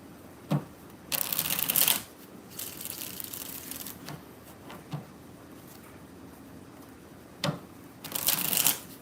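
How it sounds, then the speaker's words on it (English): Tarot cards are shuffled in several quick riffling bursts, close and crisp, separated by short pauses with light handling sounds. "All right, 2 more shuffles, Hakeem."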